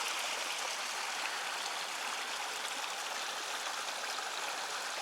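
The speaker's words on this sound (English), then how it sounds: "Just wanted to show you this beautiful water source we're passing." Steady rush of a stream flowing beside a hiking trail in the Ozark Highlands, a continuous broadband wash of running water heard alone and close, with no pauses or voices.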